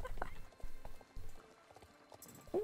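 Hooves clip-clop from a horse in the online game Star Stable Online, a few quick hollow clops mixed with game sounds, with a brief burst at the end.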